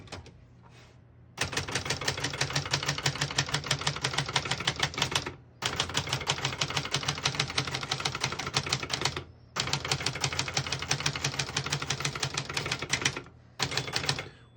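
Typing on a 1966 Brother Webster XL-500 portable typewriter: dense, rapid keystrike clatter in three long bursts separated by brief pauses, close and loud, with no voices.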